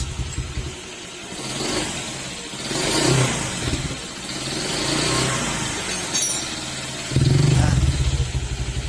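A Honda Click scooter engine with a knocking connecting rod revs up and down in repeated rising and falling swells, close and loud, ending in a sharper, louder burst of throttle.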